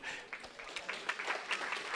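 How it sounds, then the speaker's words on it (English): A banquet audience applauds the DJ at a Colorado Hall of Fame event, steady dense clapping throughout, moderately loud and lively in a large hall. "clap really loud because he's really far away"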